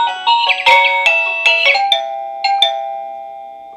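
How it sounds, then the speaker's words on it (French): A smart connected doorbell, paired with an alarm and controlled from the Tuya Smart Life app, plays a bright chiming ringtone. A loud, clear melody of several bell-like notes rings and then fades out, with no talking. "Ici on va pouvoir choisir aussi les différents types de sonneries qu'on voudrait."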